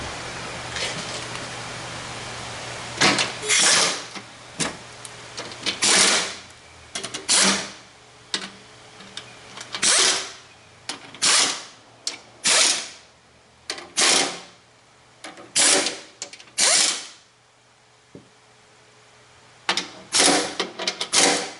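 A ratcheting wrench tightens bolts under a 2017 Fiat Spider during an oil change, quick clicking bursts repeating in a steady rhythm for about twenty seconds, close and fairly loud with no voices.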